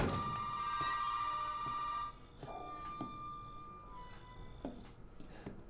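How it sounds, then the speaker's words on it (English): Telephone rings in the horror video game Resident Evil 7, a loud continuous ring that cuts off after about two seconds, then fading echoes and soft room clicks. "Is the phone ringing? It is ringing."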